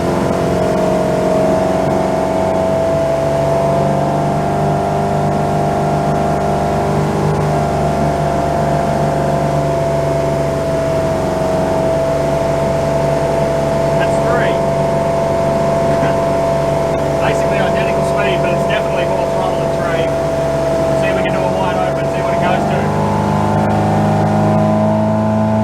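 A 34-foot Hartley timber boat's engine runs under throttle at steady revs, a loud continuous drone that rises slightly near the end, with a few faint clicks and knocks over it.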